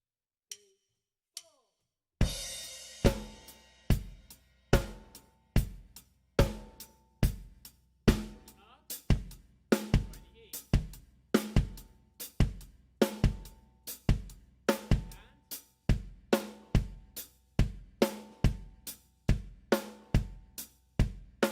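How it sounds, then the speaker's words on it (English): A drum kit plays a repeating groove with punchy kick drum hits in a quick steady sixteenth-note pattern, after a short quiet start, loud and close. "the first exercise here is the 16th note bass drums going the one,"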